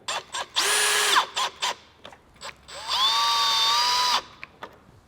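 A power drill drives screws into SmartSide panels in two longer whirring bursts that rise and then stop, with short trigger blips before and after, loud and close with no talking.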